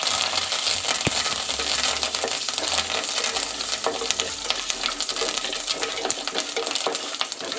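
Lentils and curry leaves fry in a pan with a steady crackling sizzle and frequent small clinks from stirring, close and continuous without talk.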